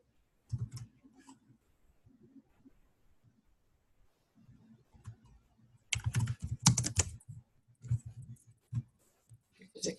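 Keyboard keys tap in scattered bursts, with a dense flurry of fast typing toward the end, close and fairly crisp, with faint background sounds.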